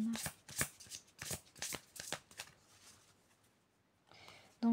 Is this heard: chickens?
no